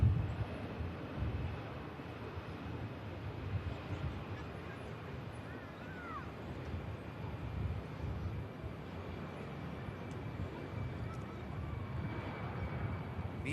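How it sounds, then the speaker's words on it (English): An EasyJet Airbus A321neo jet departs Manchester Airport for Amsterdam, its engines giving a steady, moderately quiet, distant rushing drone that holds for about thirteen seconds. "Here goes the EasyJet for Amsterdam."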